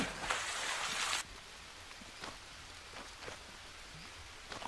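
Rain falls steadily in the jungle survival game Green Hell, a dense hiss that is heavier at first and then eases to a softer patter with scattered drops, and no one speaks.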